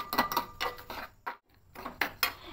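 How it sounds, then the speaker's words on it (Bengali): Rice stirred in ghee in a pan makes a run of close, sharp clinks and scrapes as the spatula strikes the metal in uneven bursts; almost no sizzle is heard beneath it. "দিয়ে এইভাবে নাড়াচাড়া করে হালকা করে চালটাকে একটু ভেজে নেব, ব্রাউন কালার করে একটু ভেজে নেব।"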